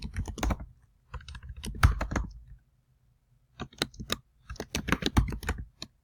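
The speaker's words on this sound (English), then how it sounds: "just going to type this in" Keys clatter on a computer keyboard in quick bursts of close, crisp clicks, pausing briefly in the middle before another run of typing, with no talking.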